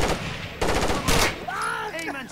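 Gunfire in Rainbow Six Vegas 2, a couple of loud rapid bursts close up, followed by ringing tonal game sounds and a voice.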